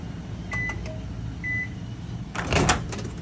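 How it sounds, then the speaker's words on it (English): A microwave oven hums steadily with a few soft beeps and a clunk of the door near the end. "Microwave works like any other microwave."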